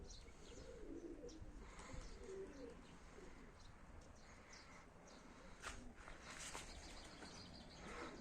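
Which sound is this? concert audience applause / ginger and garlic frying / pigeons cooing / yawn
pigeons cooing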